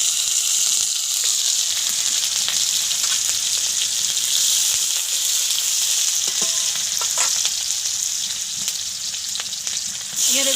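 Oil sizzles loudly and steadily in a pan while fish curry cooks, a continuous close frying hiss with faint scrapes of stirring.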